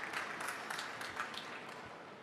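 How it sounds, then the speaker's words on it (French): An audience claps at a French training session on workplace learning, a brief, fairly faint patter of scattered hands with no voices over it. "Bravo, on peut l'applaudir"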